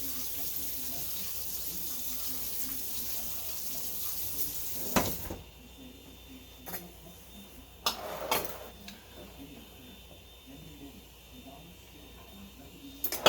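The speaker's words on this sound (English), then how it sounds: "Rinse the starch off of them." Tap water runs steadily over potatoes being rinsed of starch in a sink while canning, a constant splashing wash that breaks off around five seconds, followed by a few clinks and quieter handling sounds.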